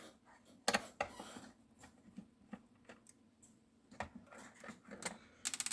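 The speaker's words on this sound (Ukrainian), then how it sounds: "Перевертаємо касовий. Ось ці два болта. Ми їх викручуємо." Bolts are unscrewed from the underside of a MINI T-400 cash register, giving faint, close, irregular ticks and small plastic clicks that end in a quick burst of rattling.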